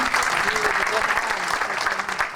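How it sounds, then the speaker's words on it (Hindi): Applause from a seminar audience in a hall, dense steady clapping filling the whole stretch with some voices mixed in underneath. "फिर से तालियां इनके लिए।"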